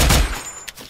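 A loud burst of rapid gunfire rattles out in the online shooter game Blokada, then cuts off and leaves a thin ringing tone and quieter game noise.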